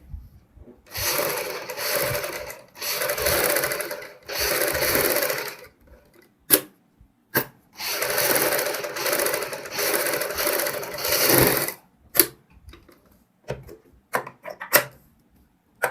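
Sewing machine stitching along buckram while making a half ban neck for a kurti, running in two long steady bursts of several seconds each, followed by short isolated clicks and brief taps.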